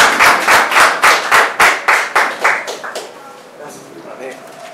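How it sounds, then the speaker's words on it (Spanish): Audience at a poetry reading claps for a poet in a burst of a dozen loud, evenly spaced group claps over about three seconds, then trailing off into quiet room noise with faint murmur. "Un fuerte aplauso para Juan Cruz."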